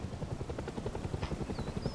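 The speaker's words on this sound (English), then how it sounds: "It's about a patrol helicopter," Steady low rotor thumping of a patrol helicopter in the video game Rust, continuous and fairly close, with faint higher whines passing over it.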